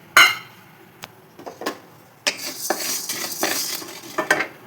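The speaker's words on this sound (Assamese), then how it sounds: "এতিয়া মই এই জালুকখিনি মই এতিয়া কেৰাহী শুকানে ভাজি লওঁ" Black peppercorns dry-roasted in a wok rattle and scrape under a metal spatula, with sharp clinks and bursts of rustling stirring close by and no talking.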